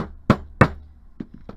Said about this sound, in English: grab your household hammer